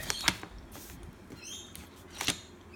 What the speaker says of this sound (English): we have quite a few birds around the place here, parrots and stuff